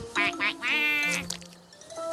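A cartoon duck, the canard Burke, gives a series of quick nasal bleating calls with a wavering pitch, followed by a lower drawn-out grumble and a brief squawk.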